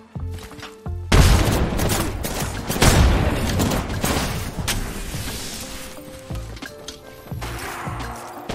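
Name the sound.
grenade and gunfire in Apex Legends video game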